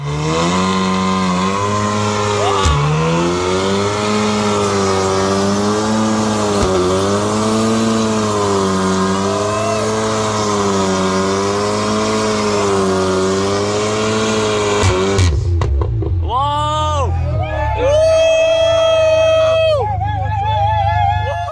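A 450 hp Audi S3 roars at high revs with wheelspin, a loud sustained engine note wavering in pitch, then sharp revving bursts rising and falling near the end.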